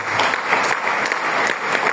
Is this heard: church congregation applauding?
yes